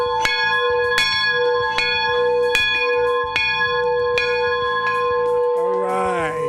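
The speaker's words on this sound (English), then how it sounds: "Are you ready for this bell?" A large bell rings at a community event with repeated strong, resonant strikes about every half second to second, each leaving a sustained metallic hum, loud and close; a brief voice-like sound rises near the end.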